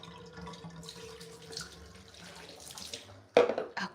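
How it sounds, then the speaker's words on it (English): Tap water runs steadily at close range, rinsing a pet dog during bath time, with a brief louder splash near the end as the stream hits fur and paws. "One final little rinse off. Let's get your paws."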